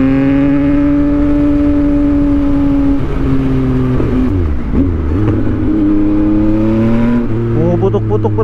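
A remapped Yamaha MT-09 motorcycle engine rumbles loud and close, its revs rising and falling with a few throttle blips and dips, while faint voices sit underneath.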